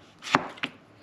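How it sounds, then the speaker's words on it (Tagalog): A kitchen knife slices through raw jicama (singkamas) being prepared for fresh lumpia with heart of palm: two crisp, close chopping strokes about a third of a second apart, alone with no talk. "at yung singkamas naman ang kanyang hinihiwa."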